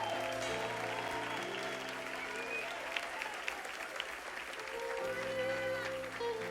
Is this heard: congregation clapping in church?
yes